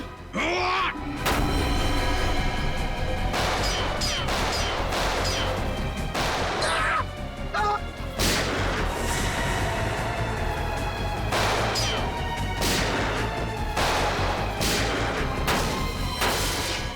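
Sharp, loud gunshots crack out in irregular bursts, one after another, over a dense, noisy background.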